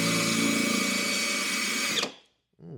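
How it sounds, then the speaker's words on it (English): A power drill drives a screw into wood with a loud, close, steady whine for about two seconds. It stops abruptly, and after a short silence a brief burst of speech follows. "then I can put the additional screws in"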